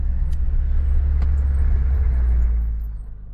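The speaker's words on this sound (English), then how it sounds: "Running the off-road truck" An off-road truck engine idles with a heavy, steady low rumble close by, holding constant for a few seconds before tapering off quieter at the end.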